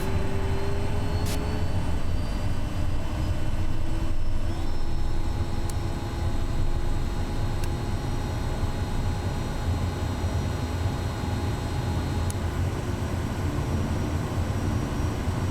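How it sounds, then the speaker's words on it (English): Aircraft taxiing toward the runway at low idle in Microsoft Flight Simulator 2024, a steady broadband engine drone and rumble, continuous and fairly loud, with a few brief tonal chirps and a slight shift partway through. "Taxi to the runway and take off"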